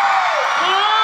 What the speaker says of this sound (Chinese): 可不可以来让我听一下北海的朋友们的尖叫声来吗